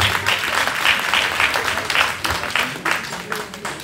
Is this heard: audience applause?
yes